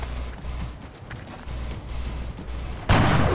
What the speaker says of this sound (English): Take a shot with our sniper.